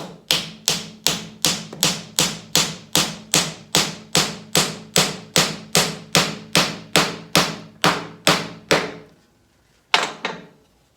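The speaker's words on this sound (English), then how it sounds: "I'm going to have to drive the tenon in the other way" Around twenty evenly spaced, solid hammer blows drive a wooden tenon into an outdoor cedar end table. After a brief pause comes one final knock.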